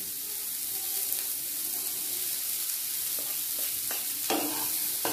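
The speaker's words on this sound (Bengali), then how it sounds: "ফুলকপি হালকা ভাজা হয়ে গেলে এবার ক্যাপসিকামগুলো দিয়ে দিচ্ছি।" Capsicum and cauliflower fry in a pan with a steady loud sizzle, while a few sharp scraping stirs knock through near the end.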